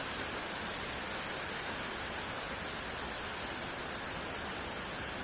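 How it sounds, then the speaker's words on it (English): Low waterfalls on a hike in Kippens, Newfoundland, running at unusually low flow, give a steady, even broadband rush that fills the whole stretch without a break and with no talk over it. "One last shot of the waterfalls."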